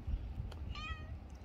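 A cat sitting outside a shop on Jeju gives one short, clear meow partway through, with quiet outdoor background noise around it.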